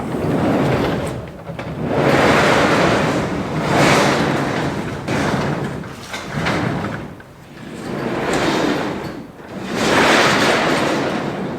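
Strong wind roars in through an opened door at a grain bin with a wet, foul-smelling auger leg, rising and falling in long gusts like surf, loud and close with no talking.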